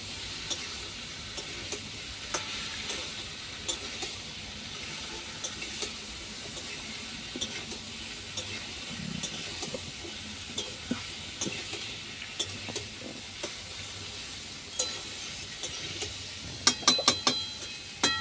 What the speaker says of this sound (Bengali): এবং নুন, হলুদ গুঁড়ো, লাল লাল করে ভেজে নেব